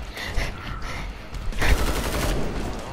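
Rapid automatic machine gun fire in the shooter game Killing Floor 2, dense bursts of shots close and loud with a heavier blast midway, no speech.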